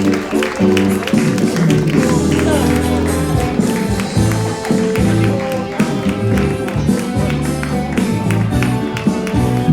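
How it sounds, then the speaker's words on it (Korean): Wedding guests in a hall clap for the groom's entrance, the applause running under background music while an announcer's voice speaks over it. "하객분들께서는 뜨거운 축하의 박수로 맞이해 주시길 부탁드립니다."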